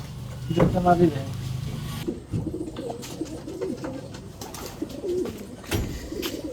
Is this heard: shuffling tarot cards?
no